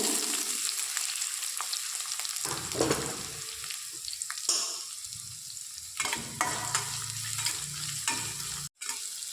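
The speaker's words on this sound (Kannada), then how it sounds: "ಸಾಸಿವೆ ಸ್ವಲ್ಪ ಸಿಡಿದ್ಮೇಲೆ ಒಂದು ಈರುಳ್ಳಿ ಹಾಕ್ಕೊಳ್ತಾ ಇದ್ದೀನಿ" Chopped onion frying in oil with mustard seeds in a pan for an okra palya, giving a continuous sizzle broken by repeated scraping and stirring strokes and occasional louder crackles, close and clear without talk.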